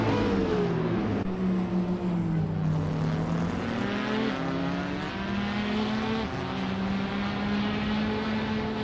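Several race cars in a racing video game, including a 2012 Aston Martin Vantage GTE, accelerating off the line at Istanbul Park, with loud overlapping engine drones rising and shifting pitch continuously without pause.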